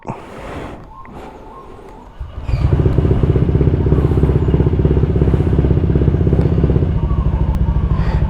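Motorcycle engine starting and then idling steadily while it warms up before routine servicing, a loud, even rapid putter that holds from about two seconds to near the end.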